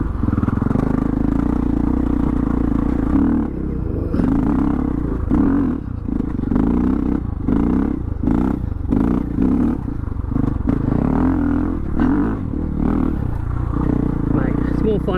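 A motorcycle engine roars steadily on a dusty hill ride while the rider tries to lift onto the back wheel, the engine revving with rough surges and clattering bursts under a continuous loud drone, with people talking over it.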